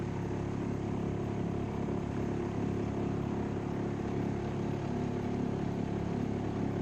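A boat outboard engine runs steadily at low throttle during its break-in period, a continuous even drone with no talking, the hum holding level throughout as the craft eases along.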